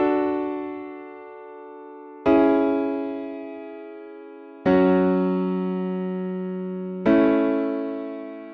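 Four sustained piano-like chords in a progression that resolves onto the tonic, each struck cleanly and left to ring and decay before the next, alone with no voices.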